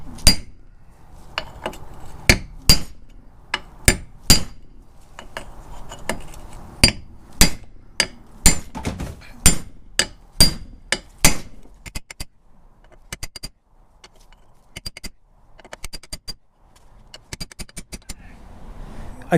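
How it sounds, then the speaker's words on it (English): Sharp metallic strikes of a hammer on a cold chisel pounding down a metal control arm bushing sleeve ring out in irregular bursts, some in quick pairs, loud and close, thinning out toward the end. "I'm going to take a cold chisel and I'm going to use a hammer and I'm going to pound this sleeve down"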